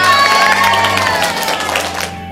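An audience at a Pos Indonesia letter-writing competition event applauds with some cheering, a dense burst of clapping over steady background music that gradually fades.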